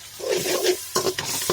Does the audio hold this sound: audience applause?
no